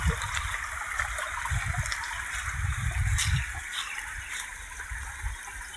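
A village canal stream flows in a steady, faint trickle and gurgle, with soft splashes and no voices.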